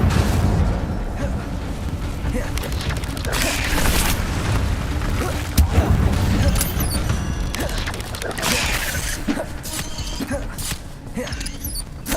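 An Incendio fire spell cast in Hogwarts Legacy bursts with a loud, rumbling whoosh and booming crackle, sustained over several seconds with a voice faintly present.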